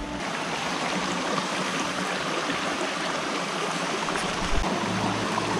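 Clear water of a stream flowing through a rural farm near Bogotá in San Francisco, Cundinamarca, a steady, loud, close rush with no break and no voices.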